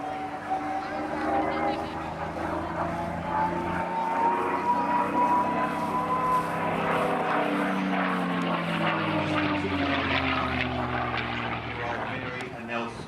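A P-51D Mustang propeller fighter flies past at an air festival, its piston engine droning steadily with a sliding pitch as it passes, fairly loud and continuous beneath an announcer talking over a public address.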